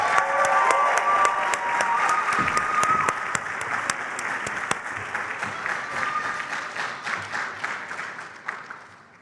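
A graduation audience applauds a class of 2023, with sustained dense clapping from a large crowd that slowly fades toward the end, plus a few scattered louder claps and faint cheers.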